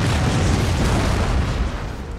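A massed musket volley fired by line infantry at clustered enemy artillery in Empire Total War erupts as a loud, continuous roar of overlapping booms that rumbles on for about two seconds before slowly easing.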